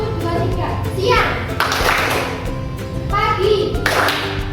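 Children in a classroom clapping game clap in short bursts, quick groups of hand claps alternating with children's voices calling out, loud and close.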